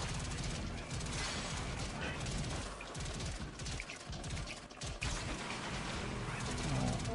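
Continuous rapid gunfire from an Archwing mission in the video game Warframe, sustained and dense with fast repeating shots and mechanical clatter running throughout, with game sound effects layered in.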